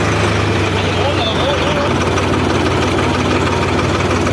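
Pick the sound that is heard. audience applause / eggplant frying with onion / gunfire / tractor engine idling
tractor engine idling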